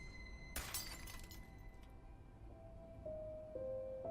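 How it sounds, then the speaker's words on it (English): Glass shatters in a sudden loud crash inside a quiet cabin, the burst of shards and tinkling fragments dying away within about a second, followed by a faint tonal hum. "And then I heard glass break."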